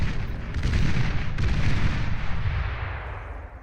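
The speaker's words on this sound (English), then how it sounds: "enjoy the sweet sounds of artillery fire as they ricochet out into the distance" Artillery fire in the strategy game Beyond All Reason during an 8v8 deathmatch: heavy, rumbling booms rolling over each other in a dense, continuous barrage, loud and deep, fading slightly toward the end.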